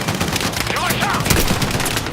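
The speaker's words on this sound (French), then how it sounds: "Droit devant! Une mitrailleuse!" Machine gun fire in the video game Battlefield 6 rattles loudly in dense rapid bursts, with a constant harsh crackle of battle noise close by.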